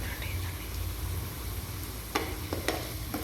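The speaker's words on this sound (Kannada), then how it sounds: "ಸೊ ನೀವು ಫ್ರೈ ಮಾಡಿ ಲೈಟ್ ಬ್ರೌನ್ ಕಲರ್ ಬರಬೇಕು, ಅಷ್ಟೊಂದಾಗಿ ನೀವು ಫ್ರೈ ಮಾಡ್ತಾ ಇರಿ" Sliced onion fries in a pan for pepper lemon chicken, a soft continuous sizzle with a few light clicks of a spoon stirring toward the end.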